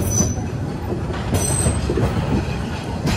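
A Saikat Express passenger train pulls into Cox's Bazar railway station on its inaugural run, with a steady rumble of rolling wagons, rail clatter and brief high wheel squeals, close and continuous throughout.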